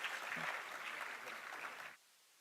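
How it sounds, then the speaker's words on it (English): Audience applause for guests at an inaugural ceremony: a dense, steady patter of many hands clapping that fills the room for about two seconds, then cuts off abruptly into near silence. "A big round of applause for our guest."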